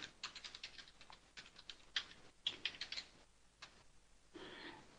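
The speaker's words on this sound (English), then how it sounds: "I'll type it in right now." Typing on a computer keyboard, quick close clusters of light clicks with short pauses between bursts, quiet and alone.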